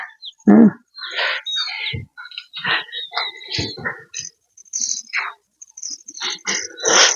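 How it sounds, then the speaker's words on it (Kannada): Birds in a farm field of mixed organic crops call in a lively series of sharp, high chirps and squeaks, irregularly spaced and fairly close, over near silence between calls. "ನೋಡಿ ಪಕ್ಷಿಗಳು"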